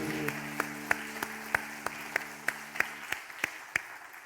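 A congregation at a Sunday worship service claps in a steady, even rhythm, roughly a dozen sharp claps, fairly quiet and at first under a held voice or tone that drops away.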